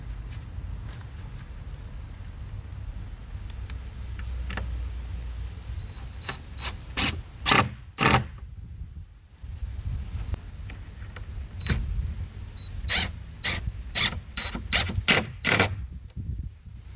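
Short screws driven into a wooden baseboard beneath a fence, heard as two bursts of rapid, sharp clicking impacts over a steady low outdoor rumble, with quieter gaps between.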